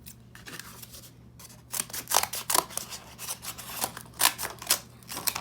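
Scissors cutting through corrugated cardboard for a craft gnome shoe, a run of crisp, close snips and crunchy slices that grow louder and denser, with a steady low hum underneath.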